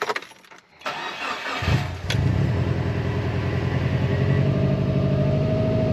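A car engine cranks and catches after an ECU map change, then settles into a steady, loud idle that continues to the end.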